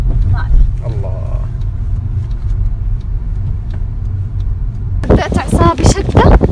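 A car driving toward and entering a roundabout, its engine a steady low rumble under the cabin, with louder road and engine noise swelling near the end as a person talks over it.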